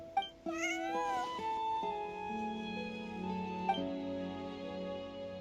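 Bonnie, a cat in the video game Genshin Impact, gives a series of drawn-out, wavering meows over a steady bed of background music, with no voices present.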